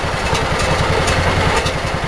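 A snowblower engine fitted with an exhaust stack idles steadily around 1200 RPM, a close, continuous low mechanical chug with even rhythmic pulsing and no pauses.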